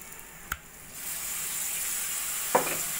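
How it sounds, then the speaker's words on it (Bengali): Whisked sour yogurt is stirred into frying masala in a pan for doi katla, a steady bright sizzle with a couple of sharp clinks of the spoon against the pan. "টক দইটা ভালো করে মশলার সঙ্গে মিশিয়ে নেব।"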